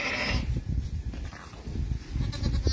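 Sheep bleating in a barn during spring lambing, a steady, close, throaty calling against constant farm background noise, with no talk.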